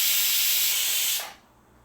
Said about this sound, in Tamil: இந்த 1/2 கப் தண்ணியையும் நான் இந்த ப்ரெஷர் குக்கரில் சேர்த்துட்டு நான் ப்ரெஷர் போட போகிறேன். இப்போ இதில் நான் 4 விசிலுக்காக வெயிட் பண்ணுறேன்